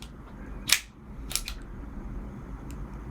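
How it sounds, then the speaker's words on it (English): Metallic clacks from a P17 pistol as the full magazine is dropped and the gun is cleared, two sharp close clicks about half a second apart, then quiet room tone. "It's got a full mag, so we'll drop that, make sure it's clear."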